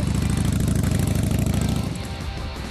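A motorcycle idles loud and close in a steady, throbbing rumble before setting off on a cold winter ride. The pulsing eases slightly toward the end.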